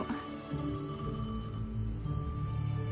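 A telephone rings steadily and alone for a few seconds in an indoor scene, a continuous electronic tone fairly close and clear.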